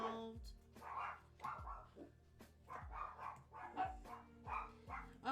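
Dogs bark in a string of about eight sharp, fairly close barks at irregular intervals, heard indoors during a live board game unboxing with no one talking.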